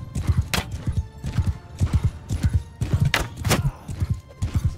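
Horse hooves clip-clop in a fast galloping rhythm in the Mount & Blade 2: Bannerlord video game, loud and continuous with repeated thudding beats and no speech over it.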